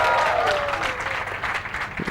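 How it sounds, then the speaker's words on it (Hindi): Crowd applause at a comedy show during a literary festival in Islamabad, a loud full burst of clapping that slowly thins out toward the end. "Can we have a huge shout out, तालियां जरा हमजा अब्बासी के लिए, राउंड ऑफ अप्लॉज."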